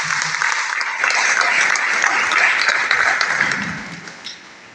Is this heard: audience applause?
yes